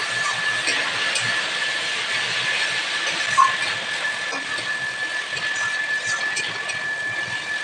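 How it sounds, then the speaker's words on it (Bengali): An electric motor runs continuously in a home kitchen during cooking, a steady broadband whir and hum with a faint tonal whine, holding at an even level throughout with no speech. "সেটা হলো মোটরের আওয়াজ মোটর চলছে"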